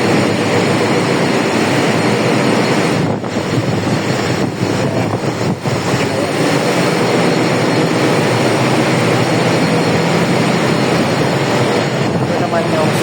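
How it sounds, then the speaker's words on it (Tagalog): Ship's engine droning steadily and loudly in a confined engine room, a dense broadband roar with a constant hum that fills the whole stretch. "Makina ng barko."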